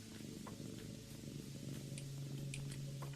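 A cat purrs steadily and close, a low continuous rumble under faint background noise with a few soft clicks, lasting about three seconds.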